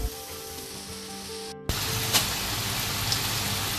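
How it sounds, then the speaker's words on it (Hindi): French fries dropped into hot oil in a home kitchen, a steady loud sizzle that jumps louder as they go in, with crisp crackling spatters, close and continuous, no talking. "तो अब मैं इसके अंदर फ्राइज डाल के इनको फ्राई कर लूँगी, और अच्छे क्रिस्पी फ्राई करने हैं आपने ऐसे।"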